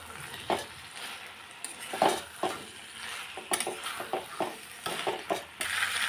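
Chicken sizzles in a pan as a utensil scrapes and stirs in quick, irregular strokes, close and fairly loud.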